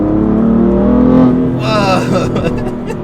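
2018 BMW M4 Competition Package with a manual gearbox accelerating hard, its engine note rising loud and close with harmonics climbing as it revs, then a brief shift break, before pulling on again.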